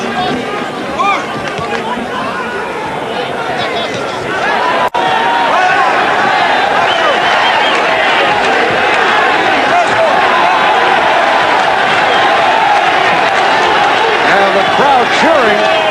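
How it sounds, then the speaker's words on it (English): A dense arena crowd at a 1985 IBF junior middleweight title boxing match roars and cheers steadily for hometown favorite Louis Acaries as the third round closes, with a broad, sustained wash of voices and a sharp bang near five seconds. "Cheering for the hometown favorite, Louis Acaries, as this third round comes to a close"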